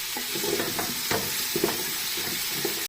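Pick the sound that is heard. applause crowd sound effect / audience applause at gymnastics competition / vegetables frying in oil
vegetables frying in oil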